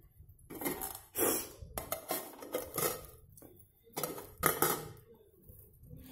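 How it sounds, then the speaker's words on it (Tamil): A metal lid goes onto a cooking pot of tamarind rava upma, giving several separate clanks and clinks spread across a few seconds with quiet gaps between, and no talking. "இப்போ இதை வந்து நம்ம கொதி வர்ற வரைக்கும் நம்ம மூடி வைக்கலாம்."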